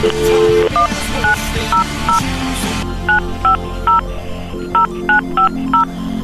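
Telephone keypad tones beep in a quick irregular series of short, loud dual-tone presses, with a brief steady tone at the start and a change in background partway through.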